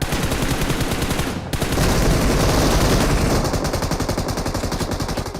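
M249 machine gun in the mobile game BGMI firing long, rapid, continuous bursts, loud and close, with a brief gap between strings of rounds.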